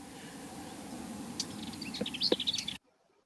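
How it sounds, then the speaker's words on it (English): Small birds give short, sharp alarm calls, a few high chirps and ticks over soft outdoor background noise, moderately close, ending abruptly. "you can actually start to separate the alarm call from between the various different species"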